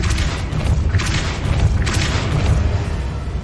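A Depulso force spell cast in the video game Hogwarts Legacy, a run of deep booming thuds and blasts repeating over about three seconds. The impacts are loud, low and rumbling, and they stand alone with no talk over them.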